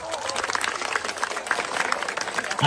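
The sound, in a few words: audience applause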